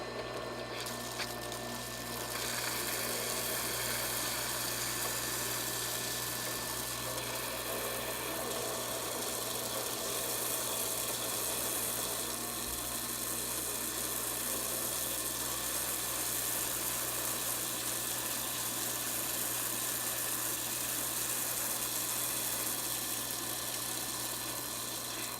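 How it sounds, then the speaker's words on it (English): A water pump assembled from bits and pieces runs continuously, drawing water from a big tank with a steady, close mechanical hum and vibrating drone, unchanging for the whole stretch, no voices. "We definitely have water going through the pump."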